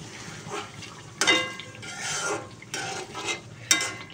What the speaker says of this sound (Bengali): একটু লড়া দিব।